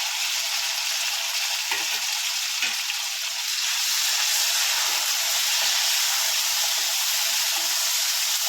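Steady, loud sizzling hiss of chopped tomato and hot chili frying in hot oil as tempering for Kathiyawadi khichdi, continuous throughout with faint stirring clicks.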